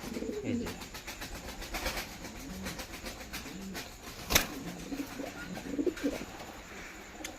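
Lahore pigeons coo softly in repeated low murmurs at a moderate distance, with light rustling and an occasional sharp knock in the background.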